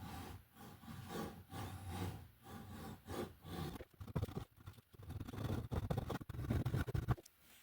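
A fine-toothed fret saw cuts a fret slot into a bass guitar neck, producing repeated rasping back-and-forth strokes, steady at first and then quicker and more irregular, heard up close with no talking.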